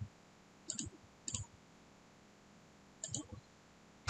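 A computer mouse clicks while working in SolidWorks, with three faint, sharp click pairs spaced apart and a final click at the end, against near silence.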